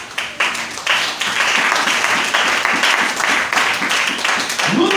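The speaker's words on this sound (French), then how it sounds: "acclamons un peu." Church congregation breaking into sustained, lively applause, dense overlapping claps that stay loud and steady throughout.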